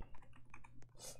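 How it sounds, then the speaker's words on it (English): A short burst of typing on a computer keyboard to write in a game chat, a few soft, quick key clicks over faint background hum. "And then you start typing."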